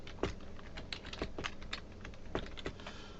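Fingers typing on a computer keyboard, a close run of uneven clicking keystrokes with a few sharper taps and no speech.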